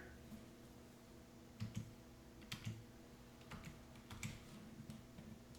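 Computer keyboard keys tapped in short irregular bursts while commands are typed for Battle for Bikini Bottom movie modding, soft and close, with a steady background hum.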